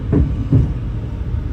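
A train bound for Crewe rolls through a station on a rail trip toward Chester, two heavy low clunks of wheels over rail joints followed by a softer, fading rumble.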